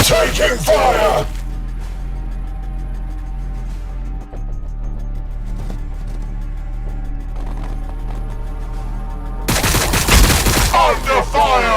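Heavy gunfire in Warhammer 40k Battlesector: a loud volley opens, then gives way to a low, steady rumble, before a second dense burst of shots returns near the end.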